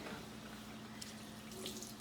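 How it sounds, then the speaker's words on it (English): Tap water runs into a kitchen sink as dishes are rinsed, a faint, steady splashing trickle with no voices over it. "Wash your dishes in the sink."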